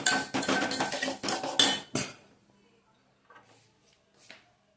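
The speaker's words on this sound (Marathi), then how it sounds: "चांगले हलवून घ्यायचं." A spoon clatters and scrapes against a pan while sugar is stirred into vermicelli sheera, a run of quick, close metallic strokes for two seconds followed by quiet with a few faint clinks.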